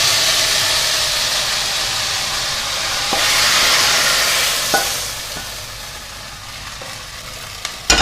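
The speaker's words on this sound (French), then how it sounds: "Il faut toujours être sur feu fort et remuer." Thin strips of pork are stirred over high heat in a hot pan, giving a loud, continuous sizzle that swells and eases as the meat is moved, with a few sharp scrapes and clinks of the utensil toward the end.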